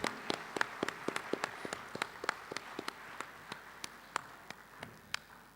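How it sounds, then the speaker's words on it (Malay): A small audience at an accounting and entrepreneurship convention gives scattered, fairly faint applause, a sparse run of separate hand claps with uneven spacing that thins out over several seconds. "Beri tepukan sekali lagi kepada Datuk Wira Dr."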